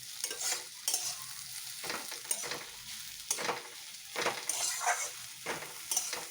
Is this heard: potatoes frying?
yes